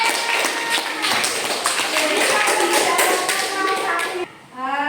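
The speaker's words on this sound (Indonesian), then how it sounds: "tepuk tangan buat Alfia" Classroom of children clapping for a classmate named Alfia, a dense, steady patter of many hands close by that cuts off abruptly near the end as a voice begins.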